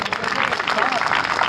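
Brief burst of audience clapping at a Hindi poetry recital (kavi sammelan) in Lucknow, dense and fairly close, with a voice audible over it.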